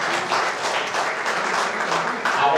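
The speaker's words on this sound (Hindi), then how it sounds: "आप भी जोरदार तालियों से स्वागत करें" An audience gives a hearty round of applause to welcome guests at an event in Indore, a steady patter of many hands with a slight swell near the end and no voices over it.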